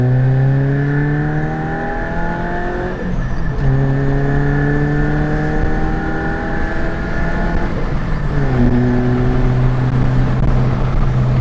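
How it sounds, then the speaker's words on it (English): A straight-piped Suzuki Jimny's loud, raspy exhaust revs up through gears, pitch climbing steadily then dropping at each shift, close and continuous. "it was just a run to see what it sounds like when you put your foot down"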